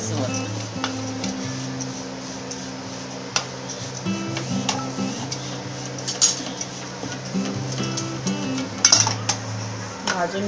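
Oats being dry-roasted in a pan over a gas flame for peanut oats laddu, with steady scraping and stirring, light clinks of a utensil against the pan, and a constant low hum underneath.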